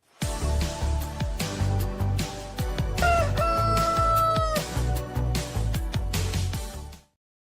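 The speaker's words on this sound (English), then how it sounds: "The crow of David Beckham signals the welcome of Monday's Morning Kickaround" A rooster crows loudly and close, one long drawn-out cock-a-doodle-doo that stands out over a rhythmic music bed and then stops abruptly, with no talking.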